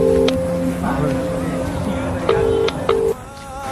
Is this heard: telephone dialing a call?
yes